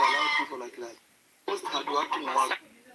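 A chicken clucks in short, bright bursts close by, two clusters of cackling calls separated by a brief quiet pause.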